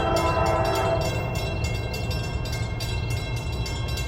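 Freight train hauled by SD60 and ES44AH locomotives passing the former D&H station in Bainbridge, New York, at sunset. Steady, loud rolling rumble with rhythmic clicking of wheels over rail joints.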